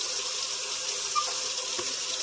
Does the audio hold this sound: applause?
no